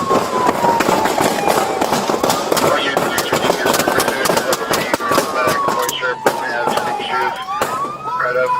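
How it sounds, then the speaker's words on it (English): Gunfire during a police bodycam encounter: a rapid burst of sharp, loud reports, many shots in quick succession, over a wailing siren that rises and falls, with shouting voices mixed in. "Shots fired."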